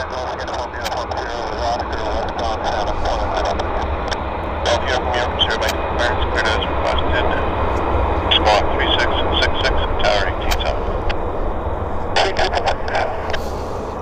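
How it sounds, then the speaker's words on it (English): An airplane approaching Vancouver airport (YVR), a broad steady engine roar that swells and holds at moderate loudness from a distance while someone talks over it most of the way. "Got another aircraft on approach."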